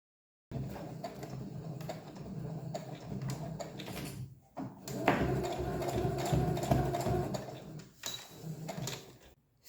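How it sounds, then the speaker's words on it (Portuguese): A sewing machine stitches fabric binding along the edge of a small phone wallet, running in close, uneven bursts of clattering mechanical noise with brief stops between runs. "aqui a gente vai fazer uma costura bem nessa borda aqui"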